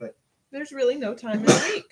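A single sharp sneeze bursts out after a stretch of close-up talking, loud and brief.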